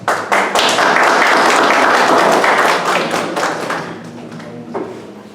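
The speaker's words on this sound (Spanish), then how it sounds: "Fuerte aplauso." A burst of applause from a crowd, dense clapping that swells quickly and then gradually fades over several seconds.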